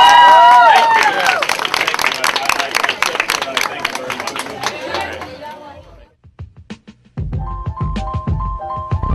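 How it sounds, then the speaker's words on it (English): Pageant audience at Miss Global International 2013 breaking into a round of crisp, close clapping mixed with crowd voices. The applause thins out toward the middle, followed by scattered claps and other noises. "I'd like you all to give a big round of applause to Mr. Anderson"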